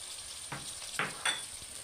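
Chopped carrot fries in a pan for chilli chicken, giving a faint steady sizzle broken by three short bursts of stirring scrapes.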